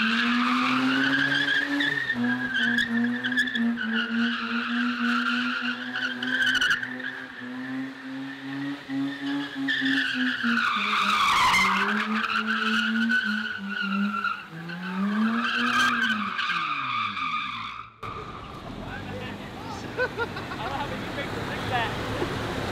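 Mazda RX-8 driven hard, its rotary engine droning high and loud with long tire squeal and skidding that rises and falls, ending in a rougher, noisier wash of sound.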